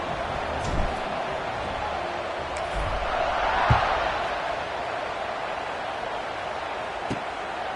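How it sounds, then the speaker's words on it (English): A large stadium crowd at a college American football game, Georgia Tech at Minnesota, keeps up a broad steady roar and murmur, with a few thuds and a brief swell near the middle. "this crowd is buzzing after that last score"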